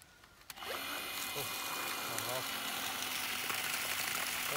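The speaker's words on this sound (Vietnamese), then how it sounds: "rồi thử máy bơm nó có bơm lên không" A 1/2 HP water pump with a newly replaced capacitor starts with a sharp click, then runs with a steady, loud motor whine and hum that continues without a break.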